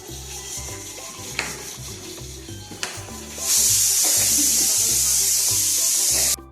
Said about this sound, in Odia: ଭଜା ଷ୍ଟାର୍ଟ ହେଲା। କାରା ମାଛ ଭାଜୁଛନ୍ତି ବୋଉ।